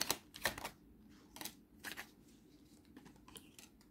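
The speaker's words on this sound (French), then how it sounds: "On va tirer une deuxième carte" A tarot card drawn from the deck: several short, crisp papery slides and taps, close and quiet, with no voices.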